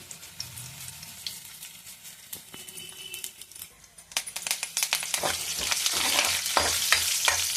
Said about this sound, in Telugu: చూడండి పోపు వేస్తాను అందులోకి, కరివేపాకు చట్నీలోకి